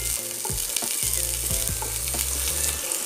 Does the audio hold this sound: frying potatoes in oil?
yes